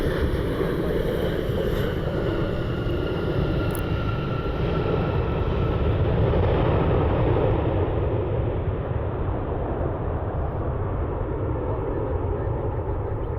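United Airlines jet airliner landing on runway 6 right at Cleveland, heard as a broad, rumbling roar heavy with wind buffeting, steady and fairly close, the higher whine fading away toward the end.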